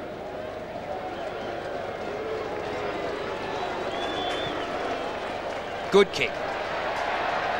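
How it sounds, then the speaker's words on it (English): Carlton supporters in a large football stadium crowd at a 1999 AFL match against Melbourne, a steady roar of cheering and crowd noise under a commentator's talk, with a couple of sharp bursts near the end. "the Carlton fans are cheering"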